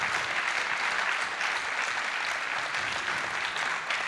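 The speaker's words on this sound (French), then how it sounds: "Je crois qu'on peut les applaudir très fort" Audience applause for a sports team's staff at a talk on managing success in team sports, steady dense clapping filling the room throughout, without voices.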